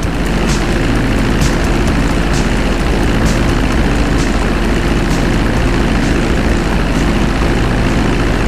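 A propeller airplane from the video game GTA V drones along in flight, a steady loud engine hum holding without a break for the whole stretch, with no voices.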